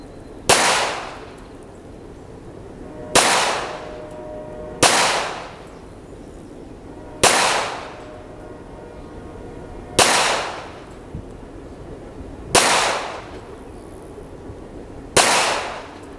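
Seven evenly spaced, sharp pistol shots from Kimber and Springfield Armory 1911 handguns at a range, each loud crack trailing a brief echo, fired at a slow, steady pace a couple of seconds apart.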